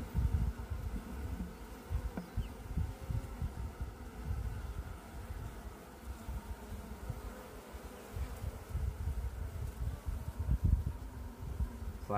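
A queenless honey bee colony gives off a loud, dense, steady buzzing that lasts throughout with no pauses, heard close up and alone.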